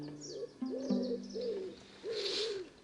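Owl hoots sound in a series of several soft, rounded calls at an even pace, close and clear, with no voices over them.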